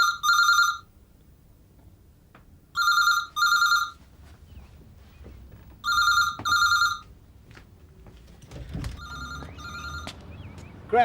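An old landline telephone in a 1994 British police drama gives three double-burst rings at an even rhythm, loud and close in a quiet room, followed by low shuffling and a click.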